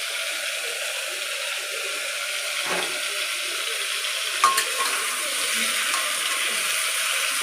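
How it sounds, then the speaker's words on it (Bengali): Ridge gourd frying in a little oil and being stirred, a soft, steady sizzle with a couple of light utensil clinks against the pan. "হালকা করে নেড়ে নেবো।"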